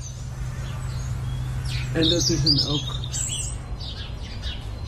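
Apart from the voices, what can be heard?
European robin singing in winter, recorded fragment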